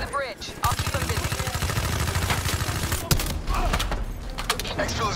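Sustained cover gunfire from Call of Duty: Black Ops III fills the scene, with rapid automatic bursts rattling continuously and loud, punctuated by heavier booming impacts, while voices shout underneath.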